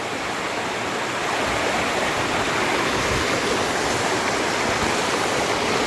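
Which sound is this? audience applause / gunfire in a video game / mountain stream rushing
mountain stream rushing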